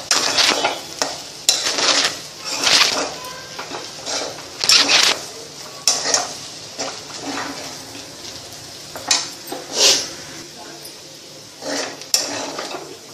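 Potatoes frying in a pan for a potato fry, stirred with a utensil. Loud, close sizzling sits under repeated scraping and clinking strokes at an irregular rhythm, with the pan knocked now and then. No one speaks.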